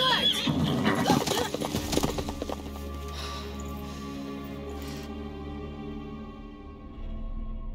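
A horse in the video game Witcher 3 gallops with loud clip-clop hoofbeats and lets out a whinny, followed by a steady hoof rhythm and music under faint game voices.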